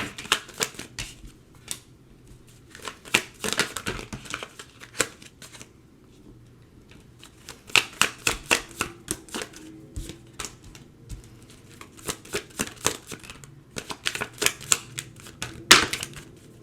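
Tarot cards are shuffled in bursts of rapid riffling and soft slapping, close and crisp, with short pauses between rounds and no speech.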